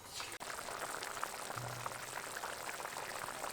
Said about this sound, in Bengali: দেখুন চিনির রসটা ফুটে ফুটে কিন্তু বেশ অনেকটাই কমে গেছে।